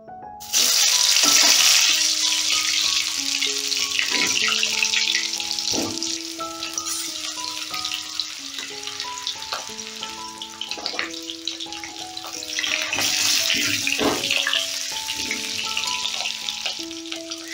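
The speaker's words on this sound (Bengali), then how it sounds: "প্রথমেই আমি আলুটা ভেজে নেব।" Potatoes fry in hot oil in a wok with a loud, continuous sizzle that holds steady under light stirring and clattering, with no one talking.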